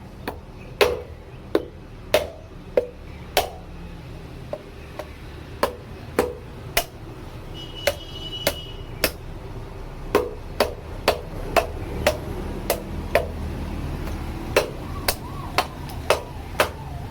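A hammer repeatedly striking something to crack it open, sharp distinct knocks at an irregular, quickening pace, more than twenty blows close by against a quiet background.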